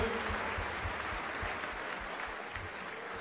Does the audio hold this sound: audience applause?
yes